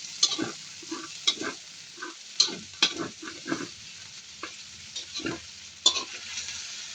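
Garlic and onion sautéing together in a pan for chicken afritada, close up: irregular scraping stir strokes and soft clicks of a utensil over a quiet background sizzle, with no talking.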